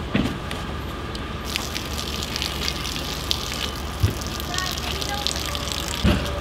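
Water gushes steadily from an outdoor tap at a campground, a continuous hissing rush with a few faint knocks over the flow.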